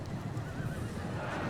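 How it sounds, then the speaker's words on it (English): Frankish cavalry charging into axemen in the video game Total War, heard as horses neighing and whinnying over a steady dense battle din and trampling hooves, moderately loud and continuous, with no speech. "Frankish cavalry charging into select axemen."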